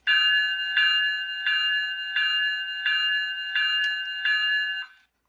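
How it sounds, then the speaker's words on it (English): Bell of a Walthers EMD SD70ACe model locomotive with ESU sound, a bright metallic clang struck seven times at a steady, even rhythm, close and loud, with no talk. "F1 is the bell."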